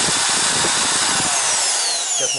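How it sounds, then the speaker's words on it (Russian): An electric drill fitted with a grinding attachment works a worn spot on a GAZ-53 engine block, giving a loud, continuous high whine with scraping grit that drops in pitch as the drill winds down. "Сейчас мы эту возьмем, не болгарочку, на дрель такую штучку, и эту выработку немного слазим."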